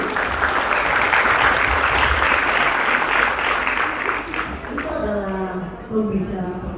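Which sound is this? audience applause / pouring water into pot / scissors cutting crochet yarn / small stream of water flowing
audience applause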